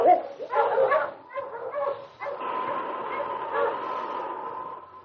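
Sled dogs in a Yukon radio drama set in the early 1950s bark, yip and whimper in short bursts for about two seconds, then a steadier mixed din carries on with faint voices beneath.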